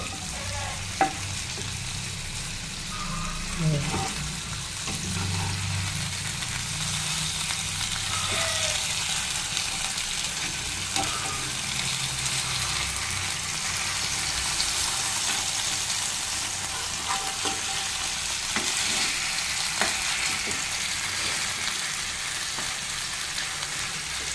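Fish sizzles steadily in hot oil for a long stretch, with occasional scraping and clinking as pieces are stirred and turned.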